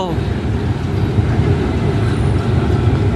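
A train passes close by near Chatuchak in Bangkok, a loud continuous rumble of wheels and carriages filling the short stretch without a break.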